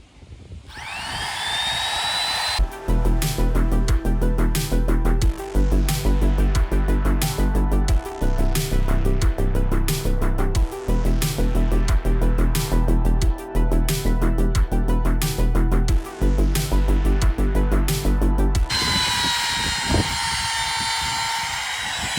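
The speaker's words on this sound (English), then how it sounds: "we'll just trim this little bit of edge off here" A power tool trims the edge off a new hatch lens for a 1984 Chris Craft Catalina 381 boat, a loud high-pitched whine running steadily for about sixteen seconds with brief dips as the cut proceeds, alone and close.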